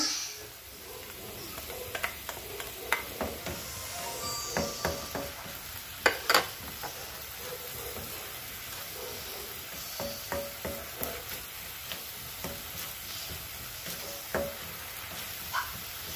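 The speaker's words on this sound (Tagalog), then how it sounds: "Ilagay na natin yung ating bawang." Garlic sautéing in a pan with onions, a steady close frying hiss throughout, broken by scattered clicks and scrapes of stirring; no one talks.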